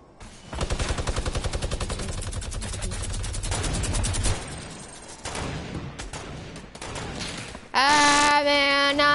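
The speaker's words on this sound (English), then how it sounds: "There's a bunch of shooting, that's what I can hear." Rapid gunshots in a video game, a loud regular burst of automatic fire for several seconds, then scattered shots and other game sounds.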